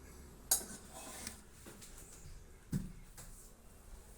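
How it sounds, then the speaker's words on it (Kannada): Ripe mango being cut lengthwise and crosswise into pieces that drop into a bowl, heard as two faint sharp clinks of a knife or pieces striking the dish amid soft handling sounds in a quiet kitchen. "ಈ ಥರ ನಾವು ಉದ್ದ ಮತ್ತು ಅಡ್ಡ ನಾವು ಕಟ್ ಮಾಡಿಕೊಂಡು ಪೀಸಸನ್ನು ಹಾಕ್ಕೊಳ್ತಾ ಇದ್ದೀನಿ."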